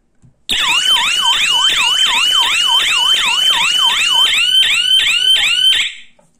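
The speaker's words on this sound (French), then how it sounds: "je vais vous faire entendre la sirène" A Digoo wired alarm siren in SOS mode blares loud and close, repeating a fast rising-and-falling electronic whoop about a dozen times before cutting off abruptly.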